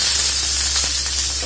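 Onions fry in oil in a wok, giving a loud, close, continuous hiss of sizzling with a steady low hum underneath.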